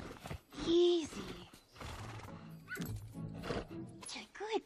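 A horse in an animated movie neighs and whinnies in a loud, high squealing burst near the start, then gives softer snorts and vocal sounds mixed in with characters talking.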